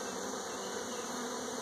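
A brief stretch of soft, constant honeybee hum around an open hive being inspected, an unbroken buzz with no talking over it.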